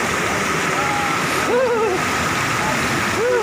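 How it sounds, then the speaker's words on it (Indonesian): Forest waterfall, the third of seven along a trail, giving a loud, steady rushing roar close by, with a few brief whistling chirp-like calls rising over it. "Ini kita baru sampai di air terjun yang ketiga ya"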